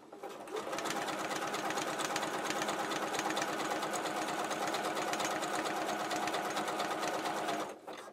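A Janome QC2325 sewing machine runs steadily through a wide zigzag stitch, its fast, even mechanical whir and needle chatter holding constant for about seven seconds before stopping.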